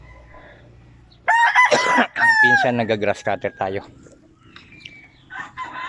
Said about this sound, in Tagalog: Ayan yung mga alaga niyang manok.